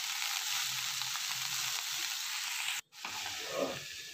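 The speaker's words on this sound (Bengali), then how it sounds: "সেই শাকটাকে কড়াইয়ের মধ্যে দিয়ে দিলাম। নাড়াচাড়া করার পর একটু নুন একটু হলুদ দিয়ে আবার ঢেকে রাখবো।" Leafy greens sizzle steadily in a hot karai, a quiet continuous frying hiss broken by a brief pause, then soft scraping as they are stirred.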